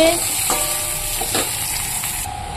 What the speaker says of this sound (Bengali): তো মাছটা ভেজে নেবো লাল লাল করে।